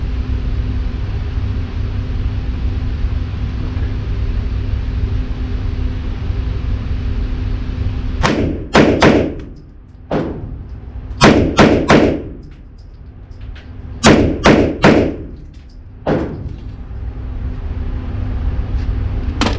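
A Walther PDP F-Series 3.5 pistol fires in a few quick strings of sharp, loud shots, single cracks and tight doubles and triples over a steady outdoor background rumble.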